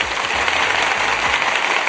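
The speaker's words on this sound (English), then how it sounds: "Let me give you some applause here upon this Monday morning here." Applause during a Monday morning live broadcast, a short steady burst of broadband clapping with no pauses, fairly loud and uniform.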